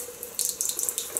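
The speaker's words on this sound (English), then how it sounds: "Add a bit of water to this." Tap water trickling into a shaving soap puck to rework the lather, a close splashing flow broken into short irregular gushes.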